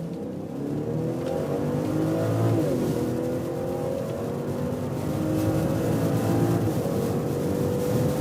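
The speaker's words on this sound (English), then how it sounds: "540i, the 6-cylinder in the 5 Series, and we go with the Autobahn acceleration" BMW 540i with its six-cylinder engine accelerating hard on the Autobahn in sport mode: a loud, steady engine drone that rises through the gears, with brief dips at the shifts, carrying on unbroken and close.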